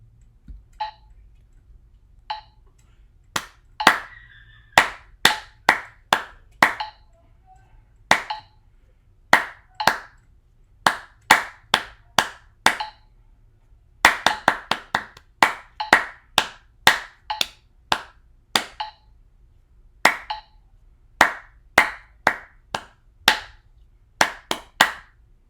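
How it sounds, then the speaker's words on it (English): Bare hands clapping a Mendelssohn rhythm in 6/8 meter, crisp close claps in grouped patterns with short pauses between phrases, alone in a quiet room with faint metronome-like ticks at the start. "but I will be clapping"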